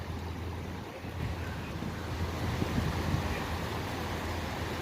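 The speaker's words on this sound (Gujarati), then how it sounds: "દરિયાના મોજા પણ એટલા મોટા ઉછળે છે" Big sea waves surge where the Madhuvanti river meets the sea near Madhavpur, making a steady rushing roar of surf mixed with gusty wind buffeting the microphone and no speech.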